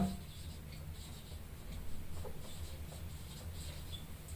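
A teacher writes on a board during a maths lesson, giving a faint continuous scratchy rubbing with soft taps, set against a low steady room hum.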